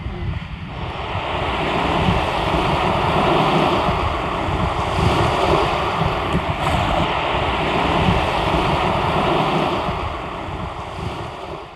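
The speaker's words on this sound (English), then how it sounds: "It's another windy morning. The wind never let up" Strong wind blows continuously against the microphone, rising and easing, over a constant rush of surf along the shore.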